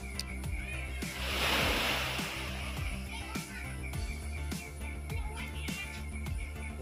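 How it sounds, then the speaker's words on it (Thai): Sea waves wash in softly beside a beachside seafood restaurant, with one fuller surge early on, then a low, steady rush of surf that stays faint in the background. "ตอนนี้เราก็เปลี่ยนมุมแล้วมาอยู่ติดทะเลครับ"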